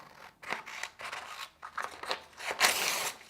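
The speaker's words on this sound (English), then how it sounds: "Make sure you print it with the correct size and cut it out." Scissors snip through printed paper in a run of close, crisp cuts with short pauses between, ending in a louder sweeping slice; no talking.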